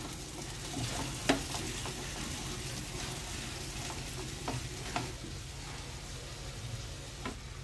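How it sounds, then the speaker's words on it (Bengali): Fried vegetables tipped into a frying pan with oil, butter, ginger and garlic and stirred, giving a constant soft sizzle broken by occasional spatula knocks and scrapes at moderate volume. "এবার ভেজে রাখা সবজিগুলো দিয়ে দিচ্ছি।"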